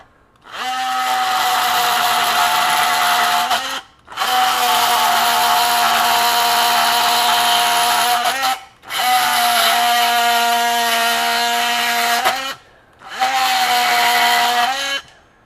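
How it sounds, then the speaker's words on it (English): A Ryobi Gen 2 18V One+ HP multi tool (PBLMT51B) fitted with a carbide extreme metal blade cuts through screws in four loud, sustained buzzing bursts separated by short pauses, with no talking. "nitrous carbide extreme metal blade for screws, bolts, things like that"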